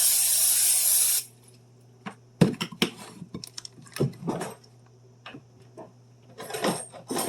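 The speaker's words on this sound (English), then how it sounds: "I'm going to go ahead and spray the foil" A short hissing burst of cooking spray onto foil on a baking sheet opens the clip, followed by quiet clicks and light clattering handling sounds.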